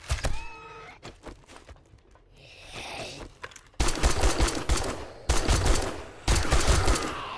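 Repeated bursts of loud gunfire from a player shooting in 7 Days to Die, dense rapid volleys starting near the four-second mark and returning in several heavy bursts, with lighter thuds and game noises before them.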